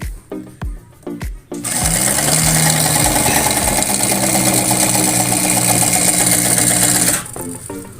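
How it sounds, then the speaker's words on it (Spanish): An old sewing machine stitches steadily for about five seconds, a loud continuous mechanical whir with rapid needle rhythm, preceded and followed by a few clicks and knocks as the fabric and presser foot are handled. "Ahí está cosiendo."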